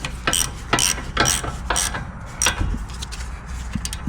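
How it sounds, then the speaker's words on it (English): Bolts on a Honda Civic brake caliper bracket are spun in by hand, giving a run of quick metallic ratcheting clicks and rubbing scrapes over steady garage background noise. "Now let's tighten our caliper bracket bolts by hand as much as we can."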